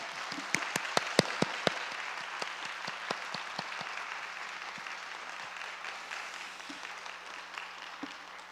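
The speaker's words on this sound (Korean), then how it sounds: "하나님께 감사의 박수로 우리 목사님 모시도록 하겠습니다" Congregation in a Korean church Sunday worship service claps in applause, a burst of loud scattered claps at first that thins into softer, sparser claps over several seconds.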